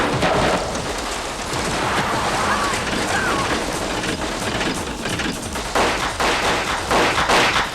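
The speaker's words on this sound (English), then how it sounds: "Bastard fired at us!" Dense bursts of gunfire crackle continuously through a car chase, loud and close over rumbling engine and road noise, with shouting voices mixed in.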